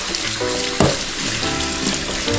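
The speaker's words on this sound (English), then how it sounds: "Give them a good rinse. Get some of the starch off." Red potatoes being rinsed under a running tap, a steady close hiss and splash of water with one brief louder splash as the potatoes shift.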